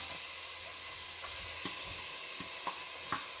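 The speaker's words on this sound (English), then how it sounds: "So I'm gonna add that to my hot olive oil." Chopped ingredients sautéing in hot olive oil in a pan for a Mediterranean-style lasagna, a steady close sizzle and hiss with a few soft stirring taps scattered throughout.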